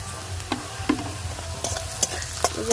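Onions fry in a pan until reddish-brown, a soft sizzle under a series of brisk spatula scrapes and stirring knocks, with no one talking.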